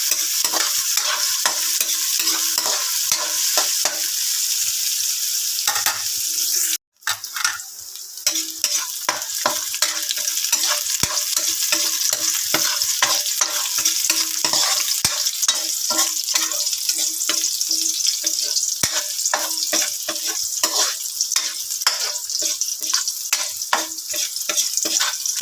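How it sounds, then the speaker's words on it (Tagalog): Onions and garlic frying in a pan while being stirred, a constant close sizzle with a steady run of spoon scrapes, one brief break partway through. "Haluin lang natin guys hanggang brownish yung ating mga sibuyas at bawang."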